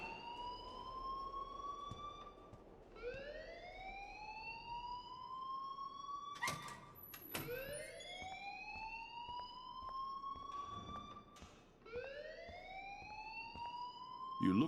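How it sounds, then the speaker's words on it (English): A school alarm wails in the game Life is Strange, rising siren sweeps repeating every few seconds with harsh buzzing bursts between them, fairly faint and heard alone without talk. "please turn off that alarm since that's your job"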